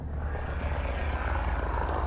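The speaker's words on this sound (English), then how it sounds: "Hear the engine of the ship." Low, steady droning hum of a spaceship engine in the video game Mass Effect Andromeda, a continuous rumble with faint higher whine, moderately quiet and alone without talk.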